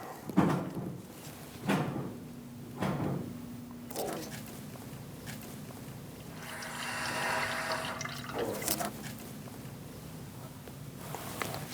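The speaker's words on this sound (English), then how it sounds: "We're going to watch all of the fluid come out until he hits the floor." Brake fluid from a Mitsubishi Outlander bleeder screw runs through a hose into a bucket, heard as intermittent liquid gushes and trickles with a brief fuller splashing stretch midway, fairly close.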